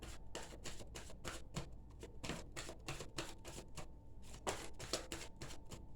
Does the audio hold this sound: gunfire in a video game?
no